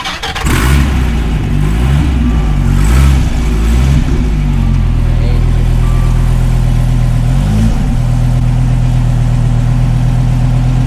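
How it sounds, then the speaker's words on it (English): A Dodge Mopar performance car engine cranks and fires, then revs hard several times before settling into a loud, steady idle with another blip near the end, close and dominant. "So we're gonna turn on this car right here."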